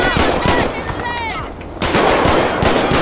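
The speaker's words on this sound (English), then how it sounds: "let's go in with our pistol now" Pistol gunshots ring out in the LSPDFR police mod of GTA V, a rapid run of sharp, loud cracks spread across the scene, with a short lull before more shots resume amid game noise and a voice.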